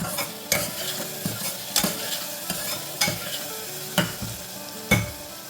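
Chicken khichda being stirred in a pan, the spoon scraping in distinct strokes about once a second against a soft sizzle, close and clear with no talking.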